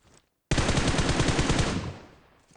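A single loud burst of rapid automatic gunfire in PUBG Mobile on the Livik map rattles for about a second and a half after a brief silence, then trails off with a fading echo.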